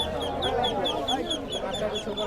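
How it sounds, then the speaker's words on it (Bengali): Ducklings quack in a dense, continuous chorus at a busy traditional village market in Manikganj, with overlapping chatter of traders nearby. "এটা কি কি হাঁসের বাচ্চা"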